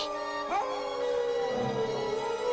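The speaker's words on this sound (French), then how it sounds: "Les chiens sauvages qui hurlent." A long, wavering howl of wild dogs rises and then slowly falls, sustained and fairly loud with a drawn-out tone.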